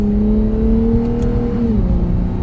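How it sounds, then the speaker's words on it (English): A 2021 Lexus IS 350 F Sport pulling away in second gear, its engine note steady and loud from inside the cabin, a single smooth rising drone with a slight shift in pitch near the end. "We'll give it a little bit of gas."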